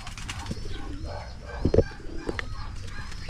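Pigeons in a backyard loft, a Bayo pigeon of Imbrick stock among them, coo low and close, with a few short calls and a brief wing flutter over steady background noise.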